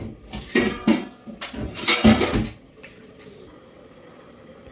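Pots and metal utensils clatter in a home kitchen while potato curry is being tempered: several sharp clinks and scrapes in quick succession, then a quieter sizzling hiss.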